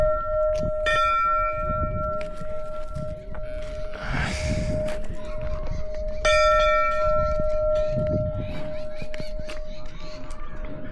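Temple bells ring at Jejuri, with sustained metallic tones struck repeatedly in clusters, sounding close and loud, while people talk and move nearby.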